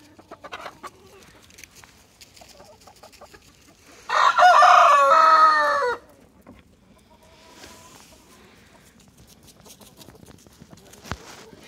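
Rooster recovering from a predator attack crows loudly for about two seconds, surrounded by softer, scattered clucking from nearby chickens before and after.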